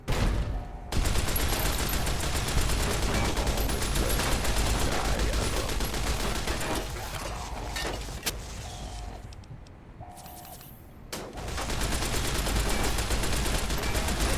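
A gun in the video game Fallout: New Vegas fires in dense, rapid sustained bursts, loud and close, broken by a brief lull with metallic clanks before the firing resumes.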